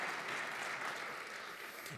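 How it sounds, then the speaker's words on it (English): Audience applause at a 2014 State of the City address, a steady, even wash of clapping from a large crowd that stays soft and distant and fades slightly toward the end. "you can clap for that"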